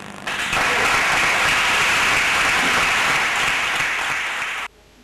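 Dense, loud applause from a large audience at the closing of an international bar association congress in Togo, sustained for about four seconds before cutting off abruptly.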